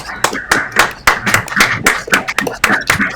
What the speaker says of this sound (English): Everybody unmute your mics again and clap again because you couldn't hear us.